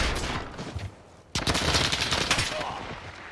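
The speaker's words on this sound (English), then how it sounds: "Who is shooting me?" Rapid automatic gunfire in Call of Duty Modern Warfare, a dense loud burst of shots that cuts in sharply after a quieter stretch, with game noise throughout.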